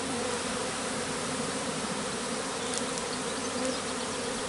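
A honeybee swarm buzzes steadily around its hive, a dense, continuous drone of many wings that stays loud and even throughout, with no voices.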